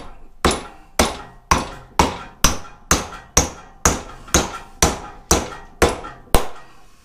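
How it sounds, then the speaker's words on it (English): A big dead blow hammer drives a bushing into an aluminum axle arm in thirteen sharp, evenly spaced blows, each a close, loud knock that decays quickly. "So now we need to get a hammer, big dead blow"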